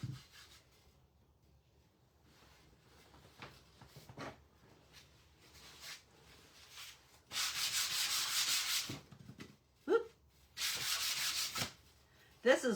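Hand sanding a small wooden snowman craft piece with worn 120 grit sandpaper, a few quiet scrapes at first, then two louder sustained bursts of rough rubbing strokes separated by short pauses, close up and without talk.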